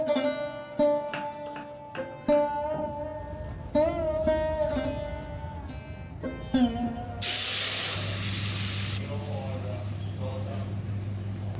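Dal tempering hits hot oil with a sudden loud, hissing sizzle that bursts in and stays steady. A voice talks in the moments before it.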